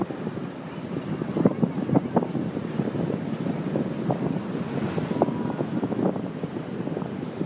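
Strong wind gusts buffet the microphone by the water in the Ocean View area of Norfolk, a steady roaring rush with sharper bursts throughout and no voices.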